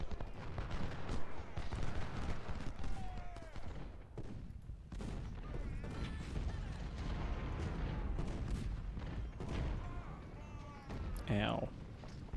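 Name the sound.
musket volley gunfire in video game Ultimate General: Civil War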